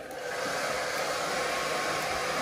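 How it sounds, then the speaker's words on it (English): A hair dryer blows with a steady, close whooshing roar that holds constant throughout, drying a puppy after its bath. "we'll dry him off with the hair dryer a little bit"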